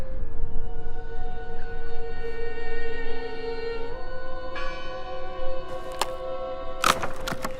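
A bell rings in the Draugen video game, sounding as sustained resonant tones that ring on and swell, with a sharper struck accent near the end, heard alone without talk.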